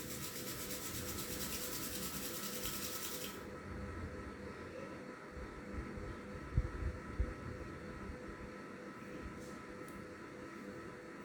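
Two palms rubbed briskly together, a steady dry rasping friction that runs for several seconds, close and fairly quiet, with no talking over it.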